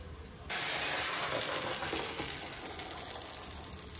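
Cumin seeds hit hot oil in a kadai for a simple tempering, bursting into a loud, steady sizzle that starts abruptly and crackles on without pause, close up and unaccompanied by speech.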